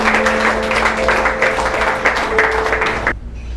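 A church congregation applauds and cheers in praise of the Lord, a steady, dense wash of clapping with a sustained musical tone beneath, ending abruptly into quieter room sound.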